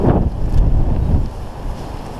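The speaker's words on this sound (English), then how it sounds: "Up the tops now it looks very windy" Strong wind roars and buffets the microphone on exposed hilltops, a dense low rumble that swells and eases slightly, with no voices.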